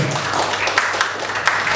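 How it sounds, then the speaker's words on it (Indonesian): An audience at a regional government socialization meeting in Kutai Kartanegara gives brief applause, a close, steady patter of many hands with a few sharper claps standing out. "Jadi tepuk tangan dulu buat kami lah."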